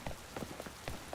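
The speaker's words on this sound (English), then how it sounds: "Oh, it's raining." Rain falling in the video game Pokémon Legends Z-A: a steady, close patter of drops on a surface, with soft swells of heavier drumming recurring through the moment, with no voices.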